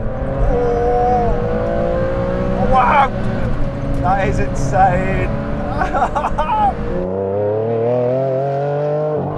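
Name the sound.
Ferrari Enzo accelerating hard in third gear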